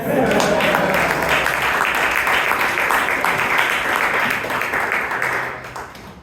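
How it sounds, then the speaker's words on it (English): A Toastmasters club audience in Bangalore keeps up a steady round of applause that fades out near the end. "I think for that resolution he needs one more round of applause."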